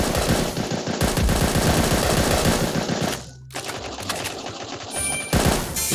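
Sustained rapid automatic gunfire from the Bullet Angel video game, loud and continuous bursts for several seconds with a brief pause near the middle before shooting resumes, no talk over it.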